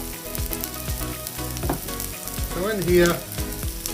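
Yakisoba being fried in oil on a hot plate gives a steady sizzle throughout. Pitched, music-like tones sit over it, and a voice speaks briefly.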